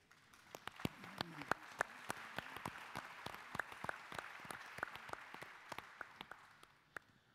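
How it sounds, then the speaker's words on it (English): An audience at a conference dialogue of world leaders applauds, a soft, fairly distant patter of scattered individual claps that continues steadily for several seconds. "I think that deserves a round of applause."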